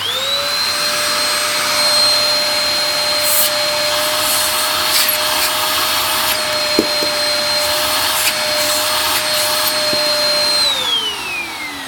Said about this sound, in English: So, let us turn it on.